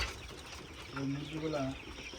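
Sonali chickens, a flock of about 2600 birds around 43 days old on a poultry farm, cluck and chatter in a soft, steady background while a voice speaks briefly.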